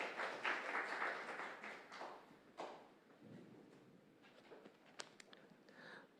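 A church congregation at a Sunday service gives a round of encouraging applause, loud at first and then thinning into scattered claps and faint room noise.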